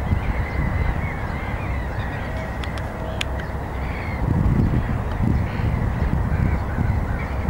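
Gulls, ducks and cormorants call on an urban city beach in spring, with scattered honks and caws over a dense, steady background wash of wind or surf; the cries are moderately distant, and no one speaks.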